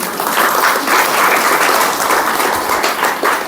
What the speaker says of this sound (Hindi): ताली बजाओ अपने खातिर एक बार।